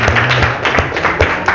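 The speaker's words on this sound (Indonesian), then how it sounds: "Oke, sekali lagi berikan tepuk tangan." A classroom group gets applause, loud close clapping from a few people with distinct, sharp, slightly uneven hand strikes over a short burst.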